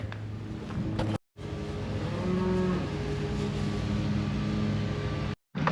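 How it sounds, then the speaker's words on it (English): Cows moo in a breezy pasture, a drawn-out low lowing call over steady wind and rumble, with two short dropouts in the sound and no talk. "Good shot of the cows relaxing, breezy."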